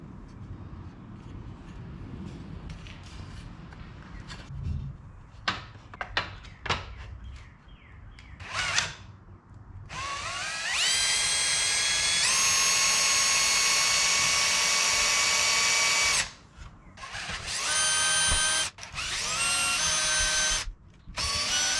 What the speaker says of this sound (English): I use my drill to pre-drill holes so that the fence pickets can be attached